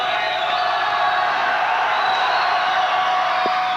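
A home crowd in the Aptos High gym roars and whoops after a missed free throw at a 1990 boys basketball game against Santa Cruz High, a loud, sustained wash of cheering with no clear pauses.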